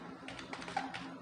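Keys clatter on a computer keyboard as someone types a spreadsheet formula, giving a short burst of quick, light taps close by with no voice.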